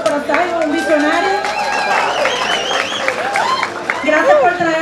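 Lively audience applause and cheering for Simon Díaz at a show in the Dominican Republic, dense clapping mixed with excited shouts and whistles throughout.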